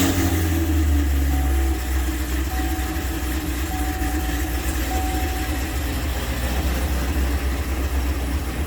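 A Cadillac CTS-V with the LT4 engine idles after a transmission rebuild, giving a loud, steady, deep rumble that holds without a break. No one speaks.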